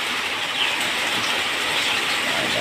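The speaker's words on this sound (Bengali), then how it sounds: "মুষলধারে বৃষ্টি, মুষলধারে" A heavy downpour of rain falling on an aviary covered with green netting, a dense, loud, continuous hiss of rain with no voices.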